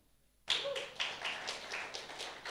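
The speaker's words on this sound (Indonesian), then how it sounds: "Bisa tepuk tangan sedikit?" A church congregation at a Sunday service claps along after a brief quiet start, a few hands beating in a loose, steady rhythm of distinct claps, fairly close and with no talking.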